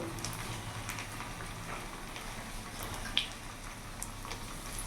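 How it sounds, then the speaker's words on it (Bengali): Boiled potatoes fry in hot oil with salt and turmeric, giving a steady, close, crackling sizzle that runs evenly throughout with one brief sharper pop and no talking. "ওই তেলের মধ্যে আমি আলুগুলো ভেজে নেব। এটা সেদ্ধ করা আলু, একটু লবণ হলুদ দিয়ে ভেজে নেব।"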